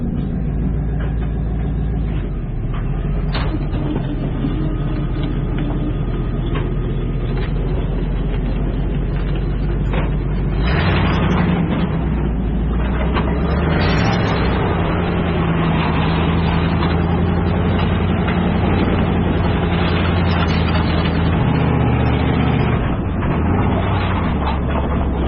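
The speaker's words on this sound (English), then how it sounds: "we've got the Suburban yanking this one out" A Chevrolet Suburban's engine straining as it yanks another vehicle out, a loud continuous low rumble with rising revs and some clunks, muffled and steady throughout with no talking.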